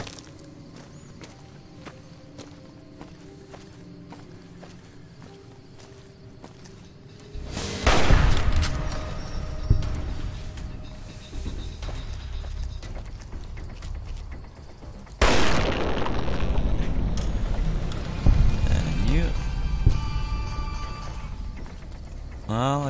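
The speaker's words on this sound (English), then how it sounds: "You just keep using your mega plasma rifle" A mega plasma rifle fires in Fallout New Vegas, with loud crackling energy bursts and booms arriving in two heavy barrages after quieter footsteps, while a voice talks over parts of the action.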